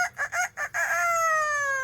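A pet parrot mimics a rooster's cock-a-doodle-doo: four choppy clucking syllables, then one long drawn-out crow, loud and close with no talk over it.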